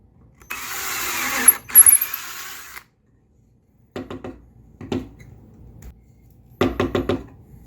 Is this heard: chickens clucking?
no